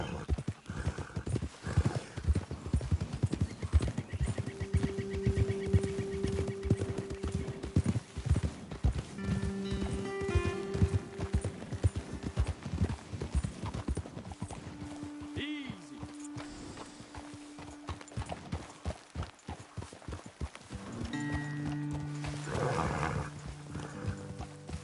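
Horses clip-clop steadily along at a walking-to-trotting pace in Red Dead Redemption 2, with an occasional whinny and game-like ambient tones in the background.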